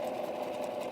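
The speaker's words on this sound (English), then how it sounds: "all I'm going to do is sew around the edge" A sewing machine stitches around the edge of fabric, a steady fast mechanical whirr with a rapid needle rhythm, close and continuous with no pauses.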